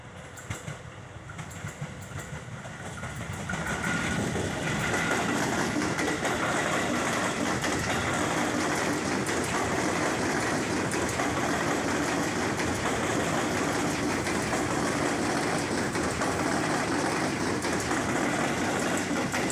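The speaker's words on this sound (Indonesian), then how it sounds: "Wah, sepertinya ada kereta lewat tuh." A train rumbles past, building over a few seconds into a loud, sustained roar of wheels and rails that continues steadily without voices.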